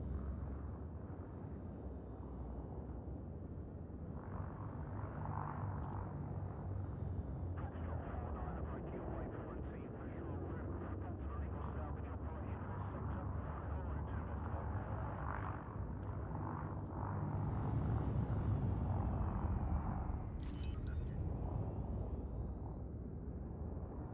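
A Type-9 spaceship in a video game rumbles through its landing sequence, a deep, steady engine drone with a faint hiss and no pauses, swelling slightly near the end.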